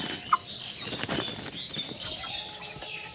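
A poultry hen flaps its wings in a quick, close burst as it is caught by hand on a broiler farm; the flapping is sharp at first and keeps up through the short, busy moment.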